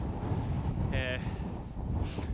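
Strong winter wind at Loch Enoch, a remote Scottish loch, buffets the microphone with a low, rumbling gusty roar, and a brief whistling tone rises over it.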